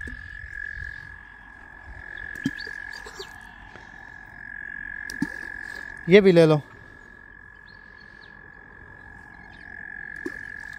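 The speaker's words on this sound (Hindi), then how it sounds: "मेंढकों की आवाज आ रही है आपको?" A frog croaks loudly nearby by the water in one short rasping burst, over a steady insect-like drone and faint ambient sounds, while a person speaks briefly.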